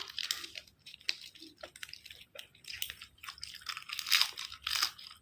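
Close, crisp crunching as someone bites and chews Isan sausage with salad greens such as kale, in repeated bursts with short wet pauses between bites.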